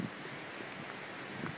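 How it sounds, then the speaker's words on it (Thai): Steady sea wind blowing across the beach at Hua Hin in front of a seaside hotel, a broad continuous rush buffeting the microphone with faint surf beneath, no talking. "นี่ครับลมทะเล"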